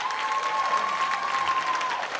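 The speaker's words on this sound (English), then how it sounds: "That really deserves a lot of applause." Audience applause at a high school gymnastics home show honoring four-year seniors, a dense, steady clapping from a crowd filling the gym.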